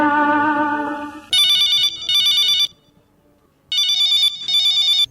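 A loud electronic phone ring repeats in bursts with short gaps on a radio phone-in programme, following a brief tonal passage of music at the start.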